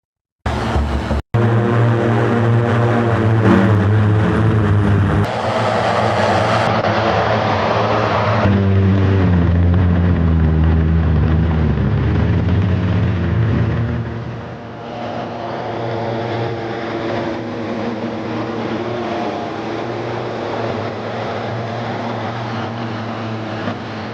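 Jetson personal aerial vehicles fly a four-ship formation and then a high-speed pylon race, producing a loud, sustained whirring drone of rotors whose pitch rises and falls as they pass.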